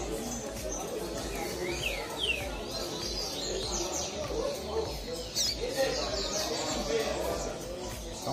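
A coleiro (Sporophila) songbird chirps repeatedly in quick, thin tweets close by, a steady run of calls that continues under someone talking throughout.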